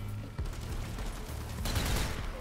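Gunfire in the zombie shooter Zombie Army 4 rattles in quick bursts of shots, moderately loud and dense, with no talk.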